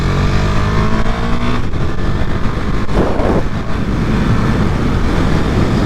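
A KTM Super Duke motorcycle engine drones loud and steady while being ridden on a track, heavy wind rush over it, with a rising rev partway through and no speech.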